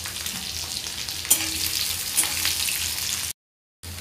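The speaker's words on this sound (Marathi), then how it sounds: "कांदा थोडा भाजून घ्यायचा आहे, व्यवस्थित सोनेरी रंगाचा होईपर्यंत।" Onion and curry leaves fry in a pan for a vegetable dish, giving a steady bright sizzle with a couple of sharp stirring clicks, close and continuous, then a brief cut to silence before the frying resumes.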